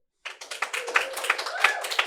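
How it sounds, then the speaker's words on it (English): A small live audience in an intimate lounge setting claps for guests arriving. Sharp individual handclaps begin abruptly and carry on in a loose, fairly close patter, with a voice briefly audible under them. "And that's not fake applause, kids."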